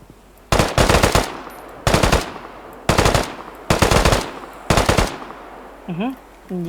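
Five loud, close bursts of rapid automatic gunfire in quick succession in the video game Deadside, followed by a brief voice at the end.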